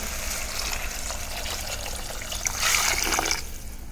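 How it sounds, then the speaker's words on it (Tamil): Water poured into a cooking pot of sautéed onions and turmeric for tomato soup, a steady trickle that swells into a brief louder gush near the end. "தண்ணி ஊற்றிக்கலாம்"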